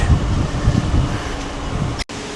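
Strong wind buffets the microphone on the open deck of a cruise ship in the early morning, a steady loud roar with gusty low rumbling that cuts out abruptly for a moment near the end.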